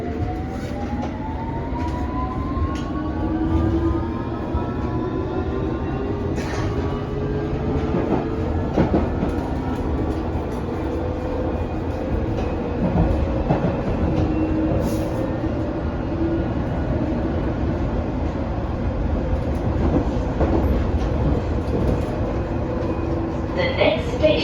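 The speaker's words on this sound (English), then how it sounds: "This is a Hammersmith and City Line train to Whitechapel." A London Underground S stock train on the Hammersmith and City line runs between Goldhawk Road and Wood Lane, giving a steady loud rumble with rising and falling motor whine and rail clatter throughout, while faint announcements are heard.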